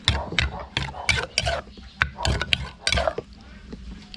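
Spoon stirring Thai fish dip in a bowl right after green onion is sprinkled in, a run of close, sharp scraping clinks in uneven bursts, then quieter.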